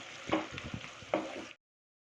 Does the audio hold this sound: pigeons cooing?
no